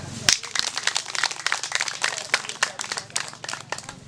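Audience applause at a district campaign meeting in Kamegeri sector, Nyamagabe, a sustained burst of many hands clapping irregularly, moderately loud and fairly near, with some crowd noise mixed in.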